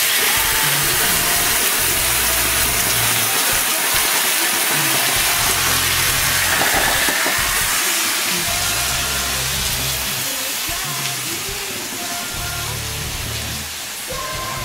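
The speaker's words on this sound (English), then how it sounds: "So I'm gonna add about a half a cup of house red wine." About half a cup of dry house red wine poured into a hot pan of pork sizzles with a steady, loud, broad hiss throughout, over a faint low rumble, easing slightly toward the end.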